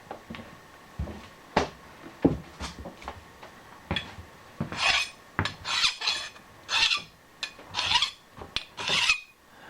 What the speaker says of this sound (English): Little deburring action just to make sure we're going to sit right.